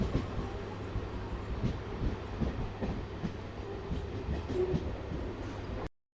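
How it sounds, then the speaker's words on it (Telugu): A MEMU passenger train with ICF coaches pulls slowly out of a station, rumbling and clattering steadily along the rails, wheels clicking as it rolls, continuous and fairly close, with no talking. "మన ట్రైన్ అయితే మెల్లిగా ఆరావళి స్టేషన్ నుంచి అయితే బయటకు అయితే వస్తుంది."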